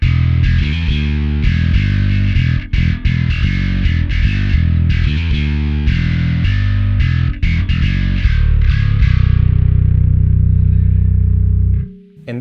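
Electric bass played through a Darkglass Microtubes X7 distortion pedal via its XLR output: a loud, gritty riff of punchy rhythmic notes that ends on a long sustained note fading out.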